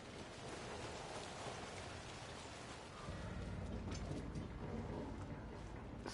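Steady, dense rain in the video game Alan Wake 2 hisses throughout and grows heavier partway through, a continuous wash of drops with no voices.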